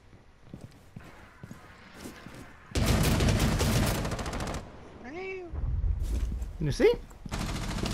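Bursts of rapid automatic gunfire in Rainbow Six Siege, a dense loud volley in the middle and more shots near the end, mixed with game effects and brief talk.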